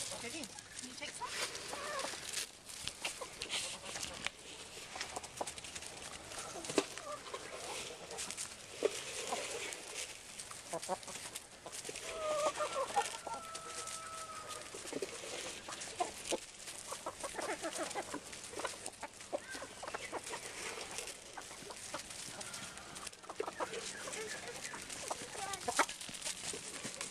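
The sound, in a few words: chickens clucking while being fed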